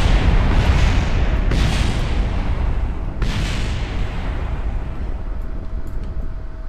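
A rocket explodes on the launch pad in Kerbal Space Program: loud heavy booms, with two big blasts in the first few seconds and a rumbling roar that lingers and slowly fades.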